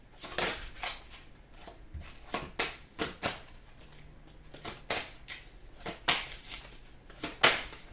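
Tarot cards are shuffled by hand in a series of crisp, riffling bursts with short pauses between them, close and fairly quiet, with no talking.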